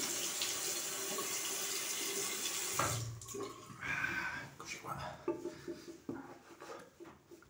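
Cold tap water runs in a bathroom sink during a wet shave with a shavette, a strong steady rush that stops partway, followed by scattered clinks and splashes while someone talks.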